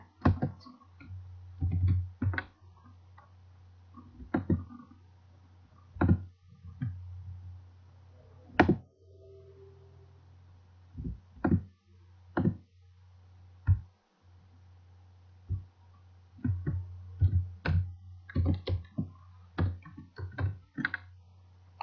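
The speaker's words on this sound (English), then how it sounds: "Let me type here." Keys clatter on a computer keyboard in scattered bursts of quick clicks separated by pauses, over a faint low electrical hum.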